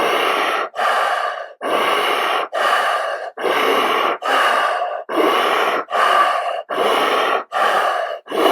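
Slow, rhythmic breathing exercise with a spinal wave movement: about ten long, loud, breathy exhalations and inhalations, each lasting under a second, follow one another with brief gaps, close and alone without speech.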